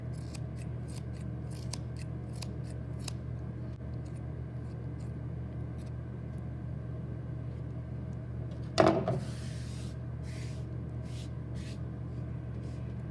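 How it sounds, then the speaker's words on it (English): Scissors snip repeatedly around a circle shape cut from paper or card: many faint, quick crisp clicks spread throughout, with one louder rustle and scrape partway through over a low steady room hum. "cut around it to make it into any shape you'd like"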